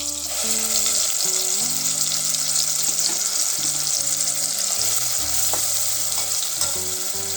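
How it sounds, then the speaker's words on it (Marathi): Green masala paste with onion frying in hot oil in a home kitchen, a steady close sizzle that carries on unbroken, with faint low hum beneath. "कांदा मऊ पडल्यावर आपण हे वाटण तेलात टाकू"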